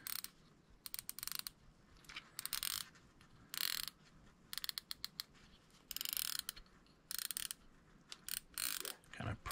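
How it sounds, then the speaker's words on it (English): A Penn Squall fishing reel clicks in rapid irregular bursts of sharp ratcheting, close and crisp, with short pauses between runs and no talk over it. "There goes the clicking."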